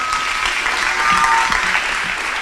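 Audience applause at a school graduation ceremony, a steady, dense wash of clapping filling the hall from start to end at full strength.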